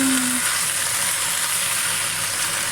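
Choi sum greens frying with sautéed ginger in a pan give off a steady, loud sizzle that stays even and continuous throughout.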